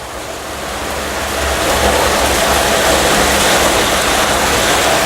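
A stainless steel electric drum tipper with power rotation-head controls empties a drum, giving a steady, loud rushing pour that swells after the first second and then holds constant, with no talk.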